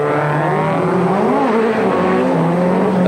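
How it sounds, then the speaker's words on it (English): Onboard sound of a BMW race car at the 1994 Chamonix 24-hour ice race, its engine running poorly and smoking but driven hard: a loud, continuous engine drone with shifting pitch that fills the whole stretch. "We're on board with Jean-Marc Gounon in the BMW, and he's got some problems with that car"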